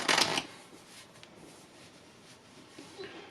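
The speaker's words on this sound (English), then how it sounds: "You shuffle, making sure to leave the top few cards on top" Playing cards being shuffled for a card trick: a loud riffle burst at the start, then softer shuffling and handling noises close by.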